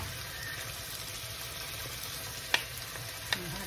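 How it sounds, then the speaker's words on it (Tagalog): Miso sautéing in a pan for sinigang na bangus, a faint continuous frying hiss with two brief sharp clinks of a utensil against the pan near the end. "Igisa po natin."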